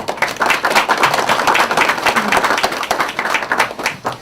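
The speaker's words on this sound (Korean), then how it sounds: "큰 박수와 함께" Loud, continuous applause from a large group at a Democratic Party of Korea field leadership meeting, dense clapping sustained without a break for several seconds.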